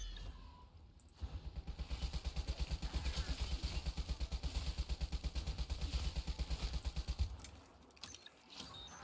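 Rapid automatic gunfire at zombies in Black Ops 3 Zombies, a long sustained burst of evenly spaced shots lasting several seconds before stopping, heard loud and alone.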